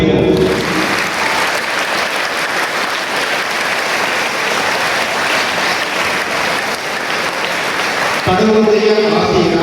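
A Christmas celebration crowd gives the family a loud, sustained round of applause for several seconds, with dense clapping that ends abruptly as talk resumes.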